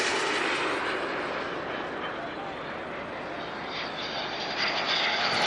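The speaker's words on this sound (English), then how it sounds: "boy, this plane moves" Jet aircraft passing fast at a jet event in Wangaratta, a loud steady broadband roar that holds throughout and swells slightly at the end, with a person talking over it.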